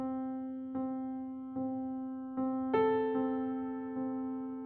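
A piano rings with a held tone while notes are struck several times in a steady sequence, each attack sharp and then decaying, played quietly and alone.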